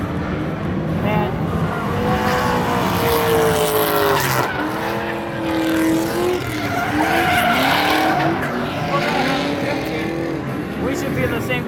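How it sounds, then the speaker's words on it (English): Drift cars at a Kill Kare drifting event, their tires screeching and skidding in long wavering squeals over loud engine roar, steady and close throughout, with voices mixed in. "The sound of screeching tires in my ears."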